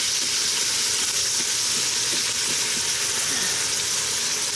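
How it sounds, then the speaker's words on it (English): Ground beef fries in a pan with a steady, loud broadband sizzle that holds constant throughout, close up and without any talking. "Trying to get the ground beef all cooked up"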